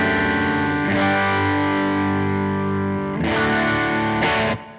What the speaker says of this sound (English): Here it is with the Halcyon Gold.